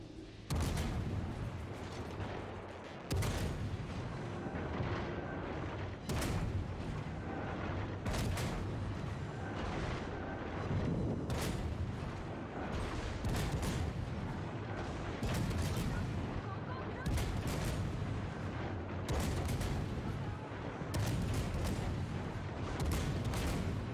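Naval gunfire in World of Warships, with a Daring destroyer taking fire: heavy booming salvos recur throughout over a steady battle rumble, loud and close, some shots sharper and brighter than others.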